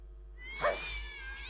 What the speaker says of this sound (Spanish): Maullido en celo.